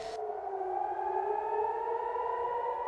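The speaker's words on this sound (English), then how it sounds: "the red alert goes off. The siren sounds" A loud civil defense red alert siren wails steadily in Ashdod, Israel, a sustained rising tone holding without a break, alone with no voices.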